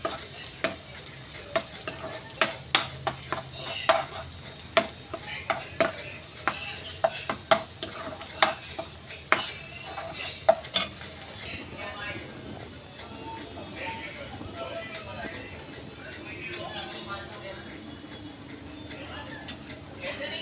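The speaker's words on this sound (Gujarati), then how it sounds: "આપણે કાજુનો પાવડર નાખીશું. એને પણ સારી રીતે સાતળી લઈશું" Cashew powder sautés in a pan with a soft frying hiss while a spoon scrapes and taps the pan in sharp, irregular strokes. Stirring fades after about eleven seconds, leaving quieter sizzling, and a voice talks over it.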